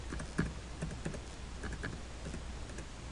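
A computer keyboard clicks with a few sparse, quiet keystrokes, including backspace and enter presses, spaced irregularly over a faint background hiss.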